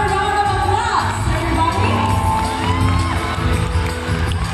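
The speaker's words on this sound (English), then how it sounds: "Please give them another round of applause," A festival crowd at the PhilKor Cultural Exchange cheers, whoops and screams for Jinho Bae and SB19, with loud sustained shouting and high-pitched squeals over constant background clapping.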